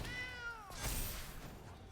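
Cat meow sound effect in MTG Arena when a cat token is created, a single drawn-out descending meow followed by a soft thunk, faint and alone.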